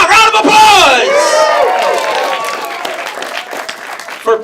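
Applause and whooping cheers burst from an audience at a disability film challenge awards announcement for Best Film, loud at the start and then settling into steady clapping with scattered shouts.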